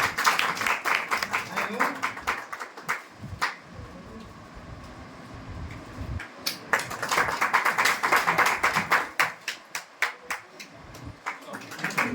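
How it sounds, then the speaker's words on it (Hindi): Scattered, uneven hand claps from villagers at a village gathering marking a sarpanch's four years in office, coming in short bursts amid a murmur of voices and ongoing talk. "अरे ताली बजाओ नहीं यार"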